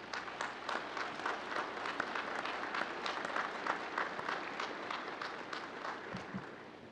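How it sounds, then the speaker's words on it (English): Sustained applause from a large crowd at a Navy Officer Development School graduation ceremony, dense and steady clapping that holds throughout at a moderate distance. "Let's have a round of applause, please."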